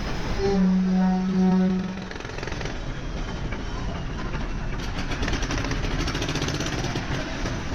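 A passenger launch boat departs on a river trip in Bangladesh, its engine giving a steady, rough mechanical chugging and drone. A horn-like tone sounds briefly at the start, and then the engine churns on continuously at moderate loudness.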